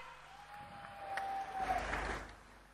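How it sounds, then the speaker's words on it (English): Faint, distant audience applause after a dance performance at an international dance festival, swelling briefly in the middle and fading out. "a huge round of applause"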